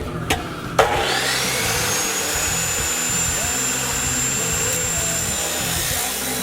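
A chop saw cuts through an old steel axle shaft, giving a loud, steady grinding whine that runs almost the whole time after a brief start-up, with no voices.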